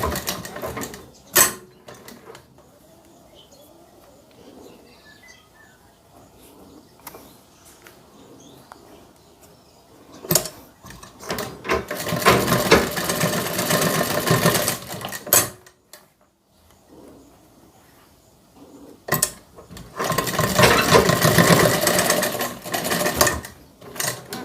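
Sewing machine stitching fabric for a child's face mask, running in two loud sustained bursts of rapid mechanical whirring and clatter with a brief stop between, set apart by quiet pauses and a few sharp clicks.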